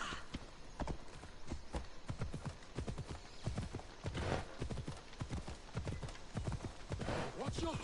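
Rapid hoofbeats of a galloping horse in the video game Assassin's Creed Odyssey pound steadily throughout, with people talking over them.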